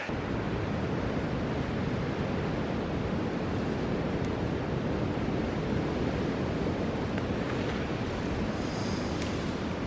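Steady rushing creek water fills the whole stretch, a dense continuous flow close by at a cold-weather hiking spot, with a few faint crackles on top.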